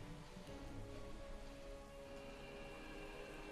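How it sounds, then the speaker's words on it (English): Steady rainfall in the horror adventure game Gibbous, a dense even hiss of drops on surfaces that stays constant and fairly soft throughout, with no voices. "It's hard to see through the rain"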